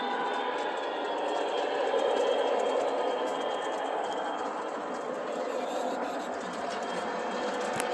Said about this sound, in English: Here comes my train through the tunnel, out of the tunnel. Give it a little gas because it's going to go up the hill.